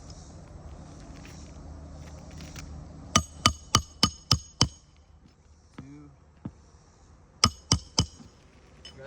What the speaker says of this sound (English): see when I'm hammering down